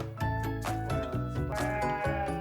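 Imported dairy goats bleating on a farm holding about 350 head, several loud overlapping bleats in quick succession, close by and continuous.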